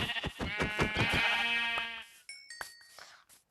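A Minecraft sheep bleats in a long wavering cry, followed by a few short electronic chimes and clicks, close and fairly loud.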